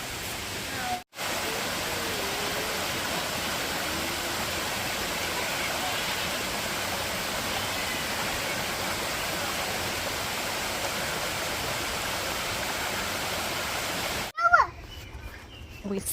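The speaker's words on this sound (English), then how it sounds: "What did you guys think of your first waterfall?" Waterfall on a hike on Oahu, a steady, loud rushing wash heard close up, with a brief gap and some handling noise near the end.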